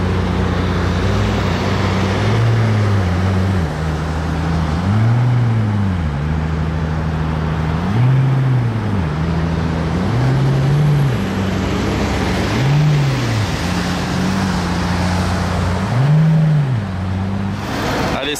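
A Lamborghini Revuelto with a loud exhaust passes among supercars at a Gumball 3000 acceleration event in France, its engine note rising and falling in several revving surges over steady road noise, heard alone without talk.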